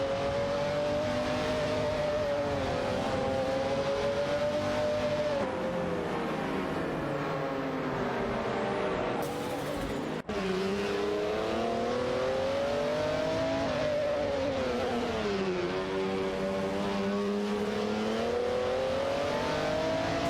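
Race car engines in an AI-driven racing game drone and rev continuously, pitch rising and falling as the cars accelerate and shift, loud and sustained with no talking.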